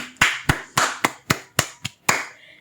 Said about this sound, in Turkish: Bir babamı alkışlayalım